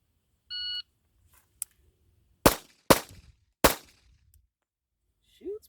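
Kimber Pro Carry 2 .45ACP pistol fired three times outdoors, loud sharp reports spaced irregularly, preceded by a short electronic beep and followed by near silence.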